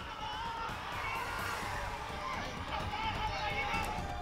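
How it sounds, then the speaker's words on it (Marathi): A crowd celebrates a gram panchayat election win with shouting and whooping, a dense, continuous roar of voices that runs steadily for several seconds. "आणि त्याचा जल्लोष करताना आपण बघतोय."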